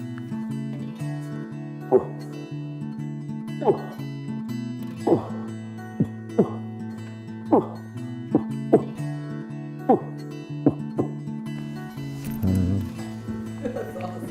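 A voice imitates an approaching moose with a series of short, low grunts spaced roughly a second apart, close and moderately loud over a steady low drone.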